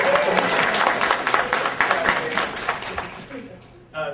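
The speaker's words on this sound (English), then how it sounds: "And clap for Craig, too." Applause from a convention crowd at a comic convention game developers' panel, dense clapping that tapers off toward the end as a voice comes back in.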